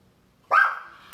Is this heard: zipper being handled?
no